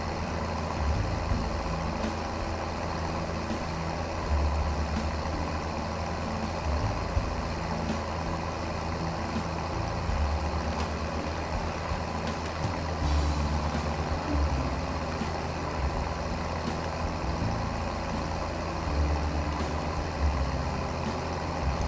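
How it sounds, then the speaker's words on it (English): A combine harvester drives in Farming Simulator 17 with a steady, loud diesel engine drone and low rumble that holds throughout, plus faint mechanical whine and no voices. "I'm going to park this harvester there where all the vehicles are parked already"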